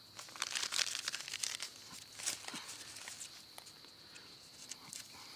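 Plastic packaging around a 4x4 sterile gauze bandage crinkles in short, quiet bursts close by, irregular handling rustles fading toward the end.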